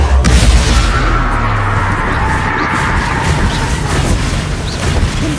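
A Confringo fire-blast spell in the Hogwarts Legacy video game: a loud booming explosion at the start, then a sustained crackling roar that lingers without fading.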